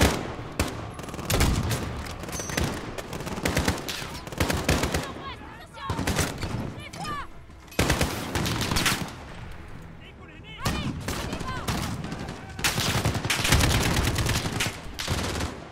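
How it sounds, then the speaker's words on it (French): Dense bursts of automatic gunfire and explosions in the Call of Duty Modern Warfare video game, loud and continuous with brief lulls, someone talking at times over the shooting. "Il y a un mec qui me tire dessus."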